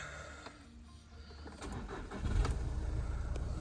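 A Skoda Yeti 2.0 TDI diesel with nearly 400,000 miles cranks and fires up, then settles into a steady, fairly loud idle heard close by.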